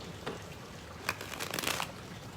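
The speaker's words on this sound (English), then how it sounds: "we've shuffled these cards plenty" Quiet card shuffling: a few soft riffles and flicks of a deck, close by, with a short flurry of rapid ruffling near the end.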